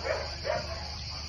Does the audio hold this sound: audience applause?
no